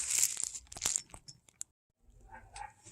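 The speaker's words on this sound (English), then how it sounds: "I'm going to put them all in a plastic bag" A plastic bag crinkles and rustles as used bottles go into it, sharp close crackles in a quick burst, a brief pause, then softer rustling.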